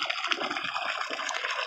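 Water gushes steadily from a borehole well outdoors, a continuous, close, broadband splashing rush with no talking over it.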